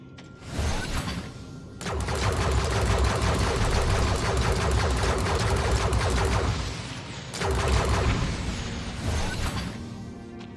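Rapid automatic turret fire from the video game Tower of Fantasy, a loud, dense rattling burst lasting several seconds, pausing briefly and then resuming, with no talk over it.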